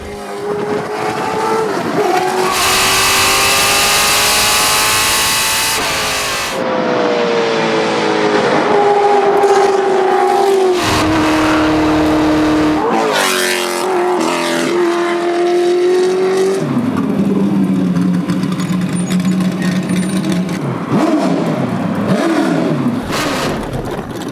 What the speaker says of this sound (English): The V8 engine sounds fantastic.